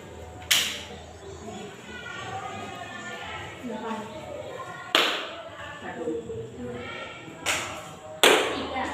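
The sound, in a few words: rhythmic clapping in a counting game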